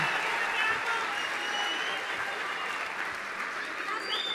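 Crowd applauding at a live comedy show in La Pintana, honoring the mayor, a broad sustained roar of clapping with a faint voice rising over it near the end.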